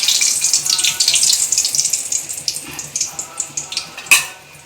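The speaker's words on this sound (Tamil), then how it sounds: "எண்ணெய் சூடான பின்னாடி பிறகு மிளகாய் போடுங்க. காஞ்ச மிளகாய் 2," Dried red chillies hitting hot oil in a pan, a loud close sizzle and crackle that settles into rhythmic spitting pops, ending with a sharp final crackle.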